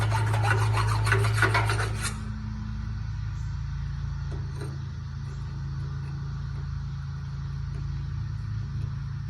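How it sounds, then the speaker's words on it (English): A metal file rasps at a freshly drilled hole with about two seconds of quick, close scraping strokes, then a steady low hum continues alone. "We clean that up where I just drilled it with the file."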